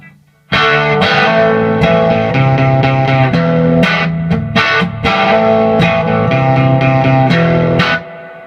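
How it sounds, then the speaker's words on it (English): An overdriven electric guitar plays loud distorted chords and riffs through a cranked Fender Princeton tube amp with spring reverb, ringing out for several seconds before stopping abruptly. "brought my handy little Princeton here along, which sounds really cool, cranked up"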